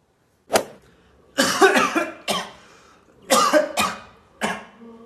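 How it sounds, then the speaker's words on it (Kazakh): A smoker coughs in several harsh, rasping bursts, some single and some in quick clusters, separated by short silences; close and fairly loud. "темекіде жөтеліп жатсың, брат"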